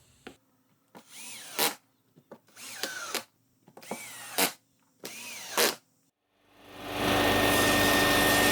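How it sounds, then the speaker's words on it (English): Drill driving a screw into a leftover piece of pine, heard as four short rising whirs close by, followed by a louder steady rushing noise that starts up and keeps going. "I'm just going to screw that to here for the LED driver to sit on."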